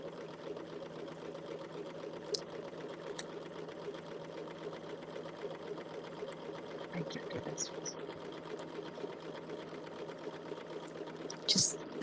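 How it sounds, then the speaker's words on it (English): A sewing machine doing free-motion quilting ruler work hums steadily and evenly throughout, fairly quiet and close, with a few faint clicks near the end. "Just stitching down, touching the line, coming right back up."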